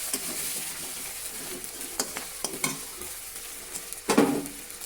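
Raw onion frying in heavily foaming oil, a steady close sizzle with a few sharp clicks and scrapes of stirring, a louder burst near the end.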